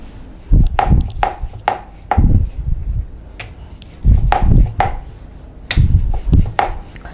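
Thin slices being cut through maida dough for chips, a series of crisp knife chops landing on a board in uneven bursts, close and clear, with no voices.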